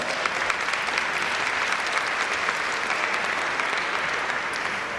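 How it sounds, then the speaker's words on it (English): Dense, sustained applause from a large crowd, steady and loud throughout with no pauses. "Congratulations and a round of applause."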